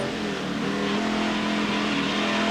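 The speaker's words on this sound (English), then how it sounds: "Harvey, into gear, third, fourth." A TVR Tuscan race car screams close by on a circuit, its engine note a loud, dense roar as it climbs through the gears.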